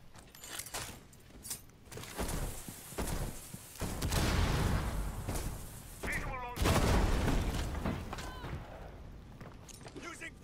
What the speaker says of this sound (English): You get a flashbang! Flashbang!